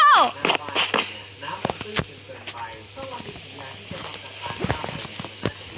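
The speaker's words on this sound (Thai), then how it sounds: "โอ้ยใครยิงปืนแถวบ้านโก้" Several sharp gunshot-like cracks in a FNAF-themed Minecraft game, irregular and spaced out, over a low electronic hum with faint voices.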